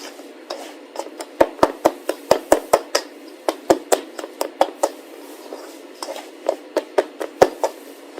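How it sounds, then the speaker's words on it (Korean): A scraper chops cheese slices into flour for scone dough, giving a quick series of crisp, sharp taps on the work surface in uneven bursts, close and clear with no talking. "스크래퍼를 이용해서 잘라주세요."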